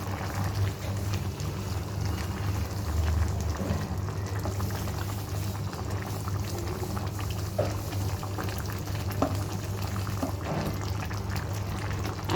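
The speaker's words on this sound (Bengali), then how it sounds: "একটু নাড়াচাড়া করে নিচ্ছি।" Chana dal curry with sugar being stirred in a pot, a steady bubbling simmer with soft scraping and liquid sloshing throughout, close and continuous with no talking.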